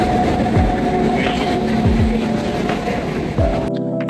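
A train rolling through a railway station, with a loud continuous rumble, rhythmic wheel clacks over rail joints and a steady hum, ending abruptly.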